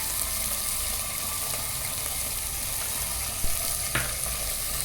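Dried shrimp frying in a pan with onion, green chilli and turmeric for a cucumber tomato curry, a steady soft sizzle throughout with a couple of brief stirring clinks near the end.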